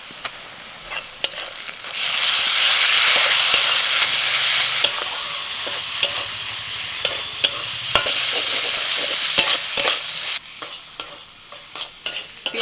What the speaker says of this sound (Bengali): এবার লঙ্কা দিয়ে তিল বাটাটা দিয়ে দিচ্ছি।